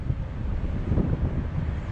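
Wind gusts buffet a tipi hot tent fitted with a stove, a continuous low roaring rumble with microphone buffeting that swells near the middle.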